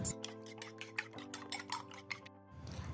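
Quick rhythmic clinking of a utensil against a bowl while whisking egg white with a tablespoon of water, a rapid beating pattern repeated about a dozen times, quiet and close.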